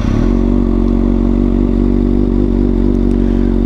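A 2020 Kawasaki ZX6R fitted with an Arrow full exhaust system idles and revs steadily, a loud, continuous deep engine drone held close up throughout with no talk.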